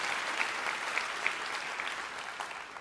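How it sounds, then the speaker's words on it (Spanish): A church congregation applauding in a steady, dense wash of clapping that fills the room evenly, with no break and no talk over it. "si vas a aplaudir, hazlo con ganas el día de hoy"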